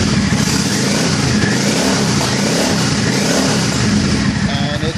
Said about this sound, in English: the bike is started and it's running, and the choke is completely off